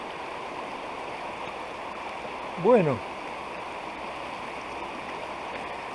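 A low autumn river runs shallow and steady in the background, a continuous soft wash of flowing water beneath a brief spoken word and a short tonal sound partway through.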